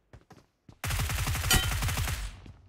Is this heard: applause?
no